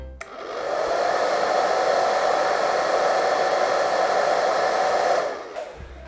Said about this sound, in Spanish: Mirá, un secador de pelo. Con cualquier cosa que tire aire las va a hacer mover porque son muy livianitas cada una de las placas